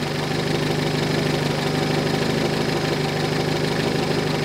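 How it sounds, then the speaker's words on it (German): A car engine runs close by, a loud, steady rumble with a rough, pulsing throb that holds without a break, idling or held at raised revs. "gib mal Gas hier"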